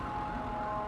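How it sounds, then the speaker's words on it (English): A fire police truck siren wails continuously and fairly loud in a brief burst, a steady tonal wail over broad rumbling noise with no speech. "No, it's a fire police truck. Sirens."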